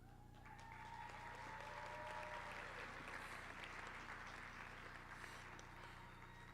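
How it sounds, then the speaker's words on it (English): Faint, distant audience applause at a National Honor Society induction ceremony, steady clapping over a constant low hum from the room's sound system. "I appreciate the applause"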